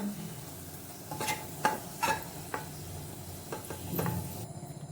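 Sliced onions fry in oil for a chicken biryani, giving a soft, steady sizzle broken by a few sharp scrapes and clinks of a utensil stirring the pan, heard close up without speech.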